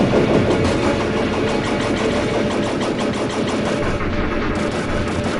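The spread gun fires in Turrican during the last boss fight, a loud, rapid, evenly pulsing stream of shots. It runs without a break over a thick droning game background.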